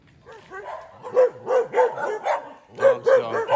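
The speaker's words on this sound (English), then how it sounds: "Dog's going crazy." A dog barks excitedly in a beachside town in Pundaquit, a close run of repeated yapping barks in two bursts with a short pause between them.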